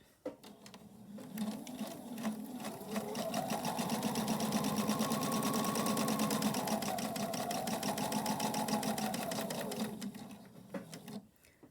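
Sewing machine stitching a straight tapered dart, a steady whirring run that starts, holds at an even speed for several seconds, then slows and stops, close and loud with no talking.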